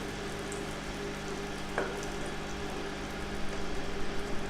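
Spinach omelette mixture frying in a pan as it is stirred, giving a steady close sizzle with a few soft scrapes, heard alone without talk.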